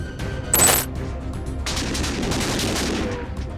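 Gunfire and grenade blasts from an action movie combat scene: a loud burst of shots, then dense sustained rattling fire over a rumbling background, continuous for several seconds without speech.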